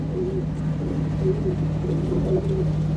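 Pigeons coo in soft, repeated low calls at close range over a steady background hum, with several throaty phrases overlapping across a loft of kept pigeons in Punjab.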